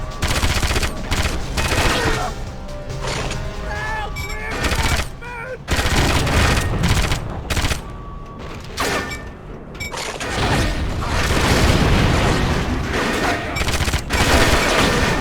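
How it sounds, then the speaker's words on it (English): Grenade explosions and rapid gunfire erupt in the James Bond 007: Agent Under Fire video game: dense volleys of shots and heavy blasts in loud bursts, broken by brief lulls. "Wow, that's a good grenade."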